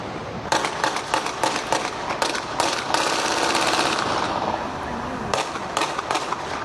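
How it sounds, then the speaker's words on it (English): Rapid bursts of gunfire crackle in an outdoor street in San Juan, Puerto Rico, near the airport, a dense volley in the middle followed by scattered sharp shots, loud and echoing. "Gunfire erupted in an area frequented by tourists near the airport."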